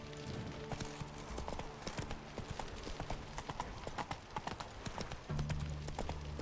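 Roach the horse galloping in The Witcher 3: Wild Hunt, rapid continuous hoofbeats over ambient game sound and music, with occasional background voices.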